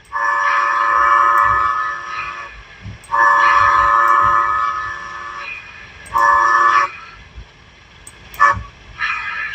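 A Bachmann 4-6-0 model steam locomotive's speaker whistle sounds three times, long steady tones with short gaps, followed by a couple of brief toots near the end.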